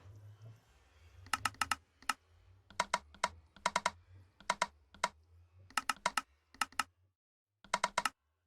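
Keyboard buttons click in irregular bursts of sharp, close taps with short pauses between, over a faint low hum and with no talking.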